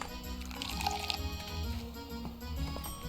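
Wine poured in a bartending video game, a soft liquid trickle and drips over a game's background music and effects, faint and continuous.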